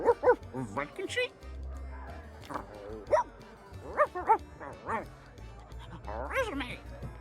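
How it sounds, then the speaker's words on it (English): Dogs bark, yip and whimper in the Sea of Thieves video game, several short yaps and whines close up, loud and repeated, with a voice talking over them. "The governor's dogs all escaped."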